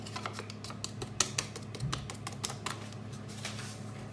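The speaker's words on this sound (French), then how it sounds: "Et on continue de mélanger le tout." Batter of flour and baking powder being mixed in a bowl, with quick, steady clicking and tapping of the utensil against the sides, close and continuous throughout.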